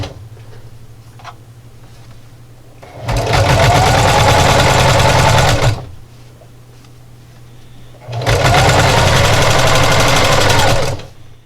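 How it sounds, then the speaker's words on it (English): Sewing machine stitching around a fabric pie plate coozie, two loud, steady bursts of rapid needle chatter of about three seconds each, separated by a low idle hum with faint handling clicks. "So I'm going to back stitch at the beginning and the end and just sew all the way around."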